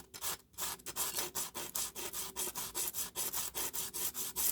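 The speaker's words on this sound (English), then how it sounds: "Gently rub so that the peaks will be removed." A broken Jinhao 599 fountain pen grip rubbed flat against an abrasive surface, a steady series of close, even rasping strokes, about four per second, with no talk.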